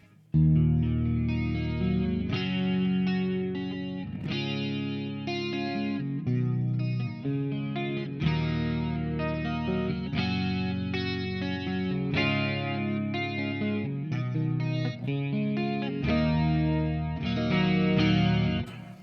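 Shimmering, swirling electric guitar chords through a chorus pedal on its Dimension C setting ring out steadily with a slightly overdriven edge, played continuously at a strong level without any voices.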